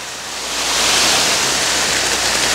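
Wet concrete pours from a truck chute for a patio slab, a loud, dense, steady rushing wash that swells in the first half second and holds evenly throughout.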